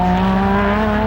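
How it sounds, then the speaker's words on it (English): A turbocharged race car at a hillclimb event drives by with a loud, sustained engine drone carrying steady harmonic tones, close and continuous for the whole moment. "it sounds like a turbo of some description"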